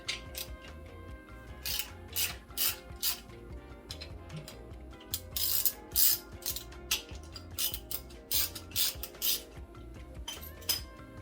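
A wrench loosens a bolt on a Jeep 258 4.2L long block, giving irregular metallic ratchet clicks and clanks in short bursts, close by, with no speech.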